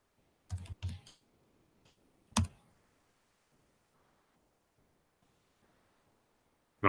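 Brief bursts of key clicks as a project name is typed on a computer keyboard: a quick cluster near the start, a single sharp tap later, then a faint quiet stretch with no talking.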